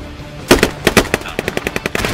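Machine-gun fire in the video game Squad, loud close bursts of sharp shots in an uneven rhythm, then a faster run of a dozen evenly spaced rounds.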